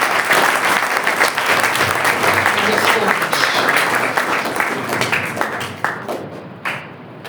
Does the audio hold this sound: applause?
yes